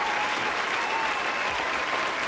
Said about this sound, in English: Was that a round of applause?